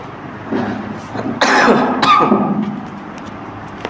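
Two short, harsh coughs, close by, about half a second apart, with quiet room sound around them.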